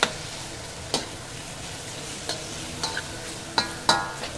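Korean style fried rice ingredients sizzling in a hot pan while a utensil stirs them, giving a steady fry hiss broken by sharp scrapes and clacks at irregular intervals, close and without talk.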